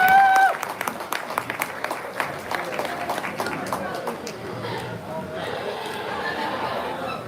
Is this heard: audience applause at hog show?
yes